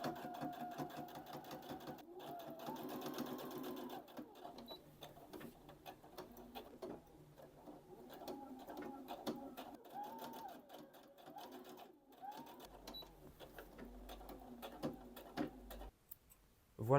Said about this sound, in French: Et pareil de l'autre côté, je couds de là à là.